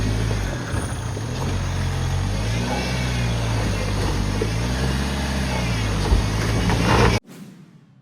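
Mahindra Thar 4x4 engine rumbling steadily up close on a mountain off-road trail, with revving swells throughout before cutting off sharply near the end.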